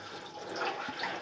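Water pours steadily inside a flooded mine adit at Liczyrzepa mine, a continuous splashing rush with a few close drips, no voices.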